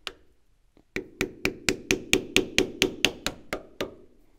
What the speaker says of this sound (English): I'm gonna have to punch a hole through this to get it out.